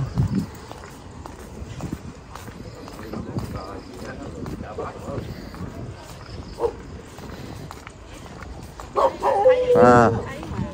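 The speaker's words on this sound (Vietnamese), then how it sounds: "chó chó" A dog barks outdoors on an early-morning Buddhist alms round where children wait by a garden, with a short burst of loud barks near the end and people talking throughout.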